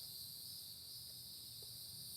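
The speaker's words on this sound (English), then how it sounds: "You hear some of these bugs. It might be cicadas." A steady, high-pitched cicada drone hums without a break on a hot summer day at Hanging Rock, fairly faint, with no other sounds standing out.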